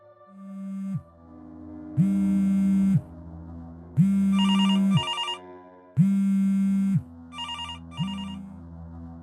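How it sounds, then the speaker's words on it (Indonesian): A mobile phone rings nearby in a repeating electronic pattern, loud tonal bursts of about a second each separated by short gaps, clear and alone with no voices. "Bunyi handphone itu terdengar sangat dekat nih"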